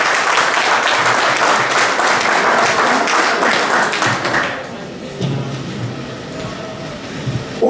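Dense, loud audience applause at an eighth-anniversary gathering of the AFDC France federation, sustained for several seconds before cutting off to quieter room noise with a few faint thumps.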